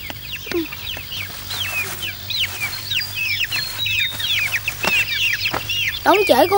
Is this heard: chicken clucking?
yes